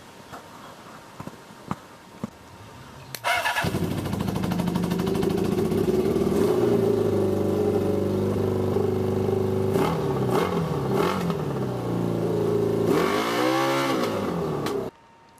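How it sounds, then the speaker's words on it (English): A homemade Mad Max style trike engine cranks after a few light clicks, then catches and runs steadily at a loud, close idle with a few revs before cutting off abruptly. "And then I tried another test start to see what it would sound like."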